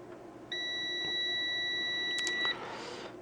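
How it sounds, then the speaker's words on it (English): A multimeter sounds a single steady continuity beep, lasting about two seconds, during a continuity check on an Epson PowerLite 84 projector under repair, with small clicks and handling noise around it. "I'm just gonna take out the multimeter and to see if we have any continuity there"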